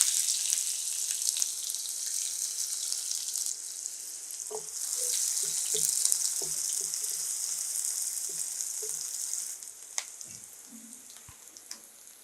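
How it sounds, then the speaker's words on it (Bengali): Two chopped onions fry in about two tablespoons of oil in a wok with a steady, bright sizzle, while scattered clicks and scrapes of stirring sound close by. "কড়াইতে কিছুটা তেল দিয়েছি, 2 টেবিল চামচ হবে, আর 2টা পেঁয়াজ দিয়ে দিচ্ছি, পেঁয়াজ কুচি"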